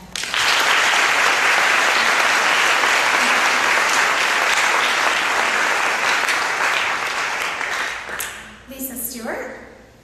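Sustained audience applause at a debate finals event welcoming a speaker to the stage: a loud, steady wash of clapping for about eight seconds that then fades, with a few voices rising at the end.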